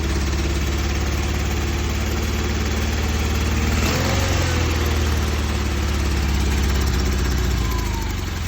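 A swapped car engine runs steadily at a rough, uneven idle, close and loud throughout with a low rumbling pulse and a brief surge near the middle.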